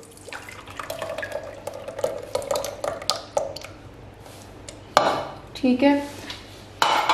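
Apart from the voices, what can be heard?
yogurt poured into a bowl and beaten for bottle gourd raita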